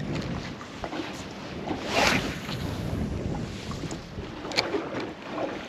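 Wind rushes steadily over open water during a fishing trip, with buffeting gusts on the microphone and faint splashing against a boat at low level, with no voices.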